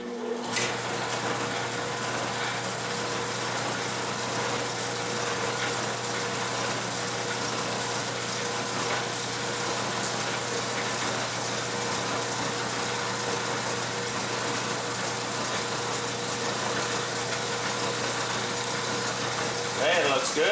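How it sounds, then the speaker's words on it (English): A lathe center-drills a small hole with a number 1 center drill, a steady machine hum running continuously with a faint high whir on top, an even mechanical drone with no pauses. "I've got a number 1 center drill, which is extremely small"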